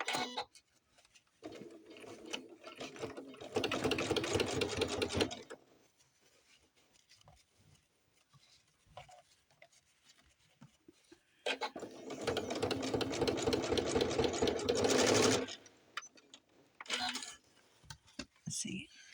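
A sewing machine topstitches doll slacks in two separate bursts of steady mechanical whirring, each several seconds long. A voice talks quietly in the gaps between the runs.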